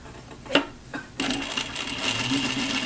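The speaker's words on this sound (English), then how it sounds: "And just stitch all the way around." Sewing machine stitching cording around a bias-cut bodice neckline, two brief clicks then a steady close whirring run that continues to the end, with a faint background voice.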